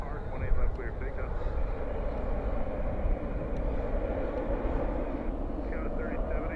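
A jet airliner takes off at night from runway 18 Left at Dallas/Fort Worth International Airport, its engines making a steady, loud, broadband roar that holds throughout, with faint radio chatter over it.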